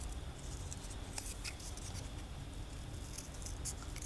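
Scissors cut partway into a cardboard toilet paper roll for a seed-starter craft, giving a run of small crisp snips over a steady background hiss, close and faint, with no talking.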